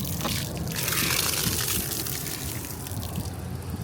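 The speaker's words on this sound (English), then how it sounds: "I found a place to fill up some water, a Flying J, and they have a water spigot available" Water gushing steadily from a spigot at a Flying J into an RV's freshwater tank, a continuous loud broadband rush that holds even through the clip with slight fluctuation and no talk.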